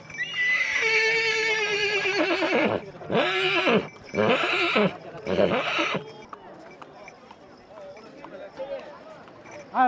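A horse on a foot pilgrimage to Male Mahadeshwara hill neighs loudly and close, with a long whinny followed by several shorter bursts. People talk over and after the calls.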